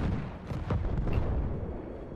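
A grenade explosion in the Battlefield 1 video game rolls out as a deep, sustained low rumble with a muffled, distant quality and no sharp attack, fading slightly toward the end.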